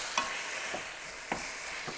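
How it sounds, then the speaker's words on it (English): Onions are stirred in a hot pan while cooking a green Thai curry, giving a soft sizzle with a few distinct scraping stir strokes at close range, and nobody speaks. "I'm going to go ahead and add my onions."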